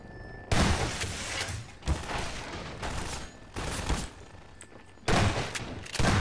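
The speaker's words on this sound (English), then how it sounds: "We're getting shot by a sniper." Video game combat with repeated loud gunfire bursts, several heavy blasts separated by short pauses, close and harsh, attributed to a sniper firing.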